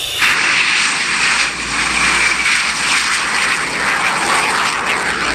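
A toy Sukhoi military jet gives off a loud, continuous electronic jet-engine roar with a steady high whine, holding evenly throughout with no talking over it.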